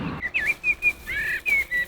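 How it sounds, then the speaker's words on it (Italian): Blackbird singing from a dry branch near a countryside vegetable garden, a clear, close run of fluting whistled phrases with short pauses between them. "Guarda quel merlo, si è volato, si mette sempre su quel ramo secco a cantare e canta verso la campagna."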